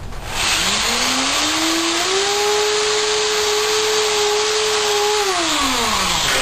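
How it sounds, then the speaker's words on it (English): An electric power drill bores a hole through a harmonica microphone shell, its motor whining up to a steady high pitch for several seconds before winding back down, loud and close, with no speech. "Grab the drill again, I don't need to drill quite so big a hole"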